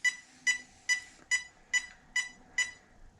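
Seven evenly spaced, sharp electronic beeps from a Spektrum receiver powering up on an Arrma Kraton 8S RC car, close and clear over a quiet background.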